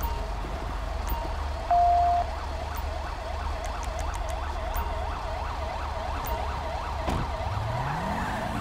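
A wailing ambulance siren in Grand Theft Auto V cycles rapidly up and down in a steady, repeating pattern, loud and continuous over a low engine-like rumble.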